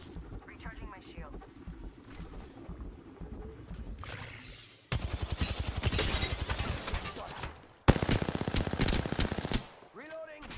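Rapid automatic gunfire from an Apex Legends match, loud sustained bursts of dense repeated shots in two long volleys, with voices and game chatter underneath and between them.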